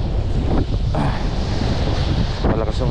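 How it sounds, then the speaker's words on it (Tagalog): Strong wind buffets a small boat out at sea, a steady loud rush with broadband roar and gusty swells throughout, close to the microphone, with faint water wash underneath. "Malakas yung hangin dito."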